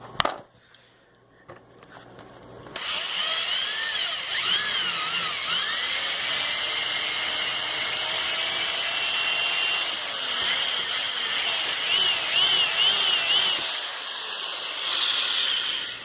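A power drill with a 5/32 bit whines steadily as it bores out the rivets of a 1990 Volvo 740 sedan's door panel, loud and close. The pitch wavers under load for about thirteen seconds after a brief quiet start.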